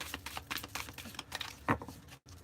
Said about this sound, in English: wish I could shuffle them better without like bending them